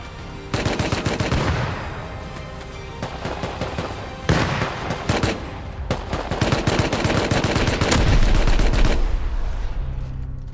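Heavy video-game gunfire with grenade blasts: dense machine-gun bursts and shots rattle almost without pause, broken by a few sharp louder booms, loud and close throughout, with no one speaking.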